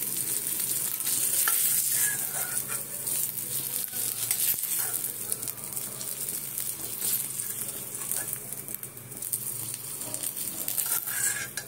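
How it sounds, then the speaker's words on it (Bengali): Paneer fries lightly in oil in a pan with a steady, close hiss and sizzle and occasional stirring scrapes, as filling for a veg paneer roll; no voices are heard. "হালকা ভেজে তুলে নেব।"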